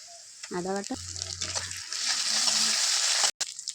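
Onion frying in a pan as ginger paste goes in, a hiss that swells into a louder, broad sizzle, with brief talk and a few clatters at the start.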